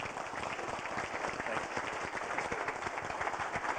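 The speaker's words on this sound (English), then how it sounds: "Let's have a round of applause." A conference audience at an energy summit applauds in a steady, even wash of dense clapping that stays constant throughout, heard from a distance and fairly quiet.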